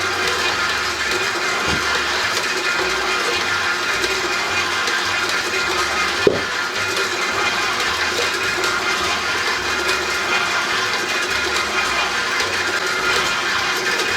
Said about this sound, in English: we're just gonna mix it until it's just combined